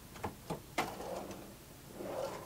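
A pull-out pantry in a 2004 Tiffin Phaeton 40TGH motorhome is lifted and slid open: a few soft, close clicks and knocks followed by a faint sliding rattle, with no talking.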